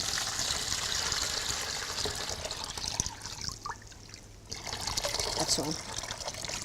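Cold water pours into a bucket in a continuous trickling, splashing stream, briefly dropping away before resuming, with a person talking over it.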